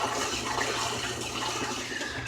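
Water in an aquaponic system draining from grow beds into sump tanks, a steady rushing, splashing flow that holds at an even level throughout.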